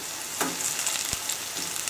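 Low protein jasmine balls frying in a pan, turned on their sides to cook through, giving a steady close sizzle with a few soft stirring knocks and crackles throughout.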